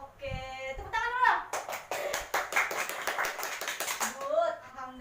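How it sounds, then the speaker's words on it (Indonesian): A class of students claps in rhythmic, fairly loud hand claps in a classroom, with voices speaking before and after the clapping. "Oke, tepuk tangan dulu."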